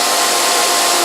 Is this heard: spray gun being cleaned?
yes